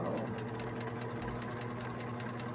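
A sewing machine stitches a seam along the edge of the presser foot, a steady, soft mechanical whirr and rapid needle chatter running continuously at low volume.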